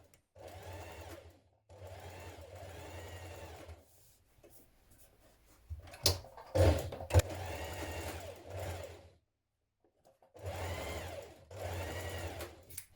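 A sewing machine stitches the side seams of a hoodie's pocket pieces in several bursts of steady running, pausing between runs, close and clear with no talking.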